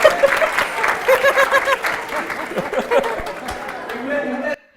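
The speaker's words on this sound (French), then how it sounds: "On applaudit tous cette équipe d'abord." Audience applauding a team in a game show, sustained clapping with scattered cheers and chuckles mixed in, fairly loud, fading out abruptly at the end.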